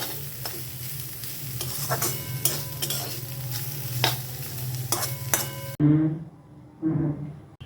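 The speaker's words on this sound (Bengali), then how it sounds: "হয়ে গেছে থোর ভেজে নেয়া এবারে নামিয়ে নেব" Banana stem sizzles as it fries in a pan, with repeated stirring scrapes and light metal clinks over a steady frying hiss, which cuts off near the end.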